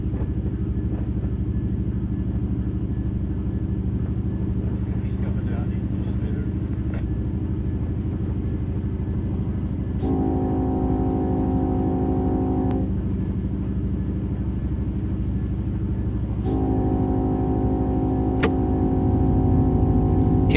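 A Union Pacific diesel locomotive in the Run 8 train simulator pulls away in notch 5 with sanders on, giving a steady, loud low engine rumble throughout, with sustained tonal whines rising twice above it.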